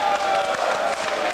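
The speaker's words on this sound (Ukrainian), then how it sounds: "Оплесками добре привітайте!" A concert audience breaks into dense, sustained applause to welcome a guest. Many hands clap together in a steady, full wash of sound.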